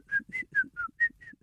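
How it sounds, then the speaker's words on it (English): A person whistles a short, wavering run of six bright notes, each rising or falling slightly and spaced at an even pace, close and fairly loud, with faint low rumble between notes. "That's a little bit better of a whistle."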